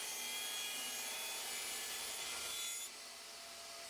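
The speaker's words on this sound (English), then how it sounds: "I reset my table saw for a 7-inch rip and removed the excess spacer strip." A table saw rips a wooden spacer strip, giving a steady, high, rasping whine of the blade cutting through wood that stops abruptly near the end, leaving a quieter hum.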